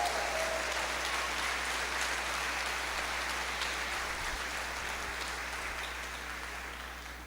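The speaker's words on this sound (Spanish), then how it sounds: "Denle un fuerte aplauso a Dios por eso." A church congregation gives a strong, sustained round of applause during a worship service, an even roar of clapping that holds steady and then slowly fades toward the end.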